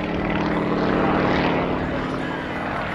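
Sukhoi Su-26MX aerobatic plane with a large propeller flying at an air show, a steady, loud buzzing drone with a throbbing pulse that holds for the whole stretch.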